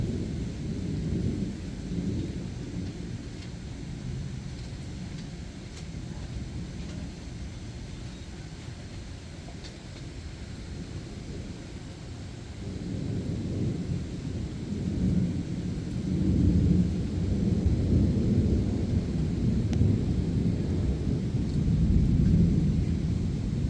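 Heavy outdoor rain roars steadily in a valley setting, with deep rumbling like distant thunder that builds louder toward the end; no voices.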